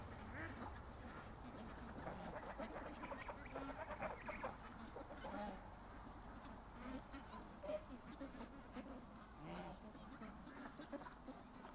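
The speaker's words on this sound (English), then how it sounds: "Little ducks coming from the swamp." Little ducks coming out of a swamp at the end of the day, quacking softly in scattered bursts over a steady outdoor background, fairly faint and mixed with other birdlike calls.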